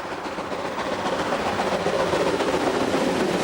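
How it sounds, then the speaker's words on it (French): The Glacier Express climbs the side of the narrow Albula valley on the Swiss railway, producing a continuous rumbling rush of wheels and carriages that grows slightly louder and carries on steadily with no talk. "notre locomotive sophistiquée doit faire grimper notre train sur le flanc de l'étroite vallée de l'Albula"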